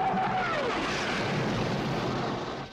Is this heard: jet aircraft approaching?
yes